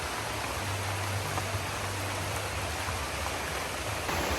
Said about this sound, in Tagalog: Medyo malakas ng ulan guys, mabasa na kami.